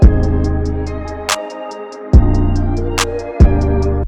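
Trap beat made in Ableton Live with a steady row of eighth-note hi-hat ticks that vary in velocity, riding over booming 808 bass hits and a couple of sharp snare claps, loud and upfront with no talking.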